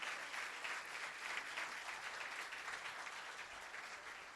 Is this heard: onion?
no